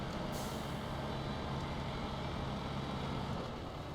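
Heavy truck engine in SnowRunner driving in low range: a continuous low droning rumble with a steady hum, a brief hiss near the start, and no voices.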